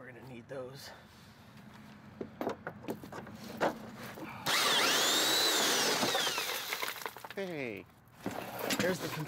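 An air impact wrench powered by a compressor runs in one loud, sustained whirring burst of a few seconds, with people talking before and after during a trailer hitch and wiring harness install.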